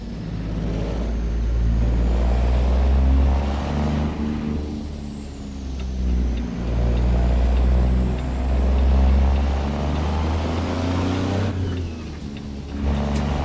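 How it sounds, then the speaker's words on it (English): A truck engine with a turbo spooling while driving in a truck simulator game, a steady loud low drone with a thin whine that rises and falls above it and a hiss of air near the end, no voices. "Turbo sounds sick."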